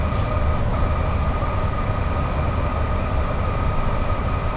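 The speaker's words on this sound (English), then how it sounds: "87 with a loaded steel train" A Class 87 electric locomotive hauls a loaded steel train past, a steady heavy rumble of rolling wagons with a sustained mechanical hum, loud and continuous for the whole stretch.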